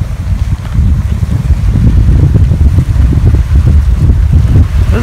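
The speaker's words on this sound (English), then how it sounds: "it's windy, especially coming off the lake" Strong wind off a lake buffets the microphone in loud, gusty rumbles that never let up, with no voices.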